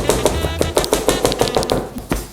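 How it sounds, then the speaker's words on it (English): A kitchen knife chops fresh garlic on a cutting board, a run of about a dozen quick, sharp, close taps in an uneven rhythm, with no voices. "after we finish chopping our garlic here"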